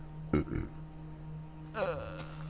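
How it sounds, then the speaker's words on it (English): A single faint, drawn-out burp follows a brief grunt, heard over a steady low hum with no talking. "Excuse me, I'm gonna burp."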